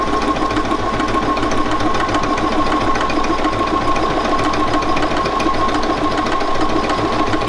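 A Bernina 570QE sewing machine stitches lettering with its 9mm stitch width. It runs as a fast, steady, loud mechanical whir and rapid needle chatter, close by and unbroken, with no voices.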